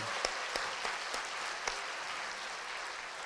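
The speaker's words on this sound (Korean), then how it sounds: "우리 박수로 축복해 주시기 바랍니다" A crowd applauds steadily, many hands clapping together in a dense, continuous patter with a few sharper claps standing out.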